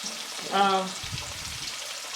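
Pecan-coated mutton chops cooking in a covered pan over medium heat give a low, steady sizzle, with a short burst of voice near the start.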